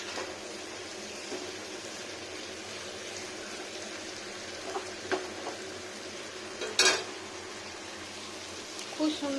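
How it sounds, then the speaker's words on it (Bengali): Baby potatoes stir-fried in oil in a pan, with a low steady sizzle and occasional scraping clinks of a spatula turning them, close and moderately quiet. "খুব সুন্দর করে বারবার উল্টো করে করে ভাজা ভাজা করতে হবে।"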